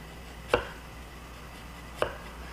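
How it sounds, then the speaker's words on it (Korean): A knife slices ginger on a cutting board for a Japanese beef soy-glazed dish, two crisp separate chops spaced about a second and a half apart, close and alone. "자, 이렇게 생강 편을 썰어주세요."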